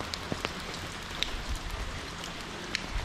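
Steady rain patters on surfaces outdoors in winter, a continuous wash of close drops with scattered louder ticks, with no voices.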